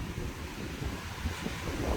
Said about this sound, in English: So windy here.